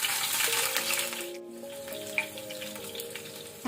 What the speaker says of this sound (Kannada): ಎಣ್ಣೆ ಬಿಸಿಯಾದ ನಂತರ ಒಂದು 6 ಬೆಳ್ಳುಳ್ಳಿಯನ್ನು ಗುದ್ದಿ ಹಾಕೊಳ್ತೇನೆ